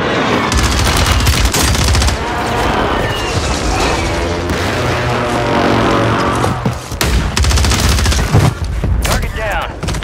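Gunfire in Call of Duty Warzone 3 with an XRK Stalker one-shot sniper rifle: loud, dense shots and booming blasts run almost continuously, with brief lulls and voices mixed in.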